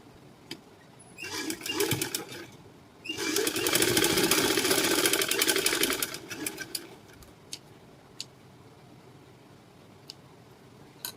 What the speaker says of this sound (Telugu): అక్కడికి ఇలా ఒక స్టిచ్చింగ్ అయితే వేసుకోవాలి